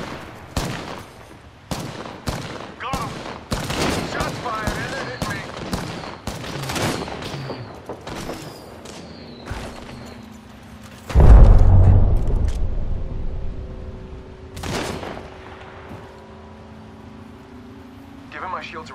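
Video game gunfire from a battle royale-style match: a rapid string of sharp shots through the first half, then a loud heavy blast with a rumbling tail and a few scattered later shots, with game voice lines in between.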